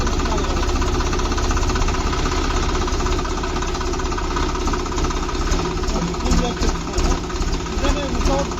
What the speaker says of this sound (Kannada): ಈಗ ನಾನು ಟ್ರ್ಯಾಕ್ಟರ್ನ ಸ್ಟಾರ್ಟ್ ಮಾಡ್ತೇನೆ